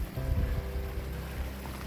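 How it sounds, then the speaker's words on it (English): Water flows steadily over rocks at a creek crossing on a backpacking trail in the Wheeler Peak Wilderness, making a soft, continuous rushing wash with no voices. "Here's a pretty cool creek crossing."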